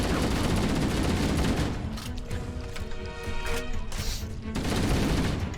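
Flood enemies fire guns in Halo MCC, heard as dense, continuous rapid gunfire and loud bursts that fill the scene for the whole stretch, with a short slightly quieter lull in the middle.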